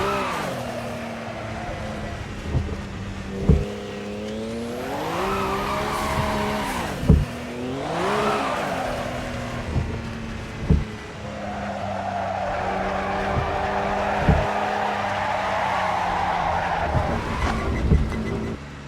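A race car on slick tyres in heavy rain in Assetto Corsa, with the engine droning and rising and falling through gear changes, sharp knocks from shifts, and a wet hiss underneath as the car struggles for grip.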